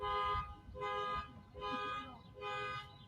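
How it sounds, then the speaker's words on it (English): A car alarm sounds from outside a high school ballpark during a state playoff baseball game, its repeating bursts of a harmonic tone coming in a regular rhythm from some distance, with faint crowd and field noise underneath. "the car alarm that is still going off out in center field"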